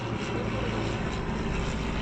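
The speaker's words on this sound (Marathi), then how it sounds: "आता हे विमान बघा शिकाऊ विमान आहे. ते लँड बघा कसं करते." Propeller training aircraft landing at Baramati airport, its engine a steady, loud, broadband drone that holds even throughout with no other sounds.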